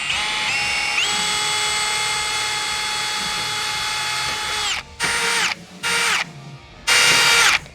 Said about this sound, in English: we're gonna drill those holes out with this 1/4 inch drill bit